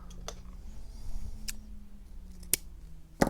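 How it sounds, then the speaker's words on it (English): Scissors snip raffia on a flower loom Christmas decoration, a few sharp separate cuts, the last one loudest and doubled, over a faint steady hum with no talking. "I'm going to trim this off."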